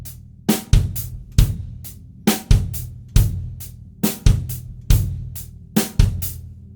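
Funk-rock drum kit groove with a bass drum kick falling right after each snare backbeat, sounding as a steady, tight pattern of sharp snare cracks paired with deep kicks, close and alone with no voices.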